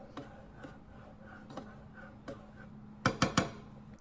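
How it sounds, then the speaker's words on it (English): Utensil stirring food in a pot, with a string of light scraping and clinking strokes at a steady pace, then three sharper, louder metallic knocks near the end, close and with no voices. "And then I stir it."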